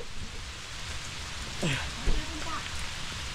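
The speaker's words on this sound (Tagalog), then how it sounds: "Umuulan na naman dito." Rain falls steadily beside a river, a constant hiss of drops with a few faint nearby bumps and brief indistinct voices.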